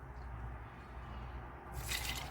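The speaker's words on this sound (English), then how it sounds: "into this, I will put 2 cups of water" Water is poured into a blender in a kitchen, a soft trickle that swells into a brighter splashing fill near the end, faint and without talk.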